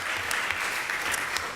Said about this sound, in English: So, warm applause to them.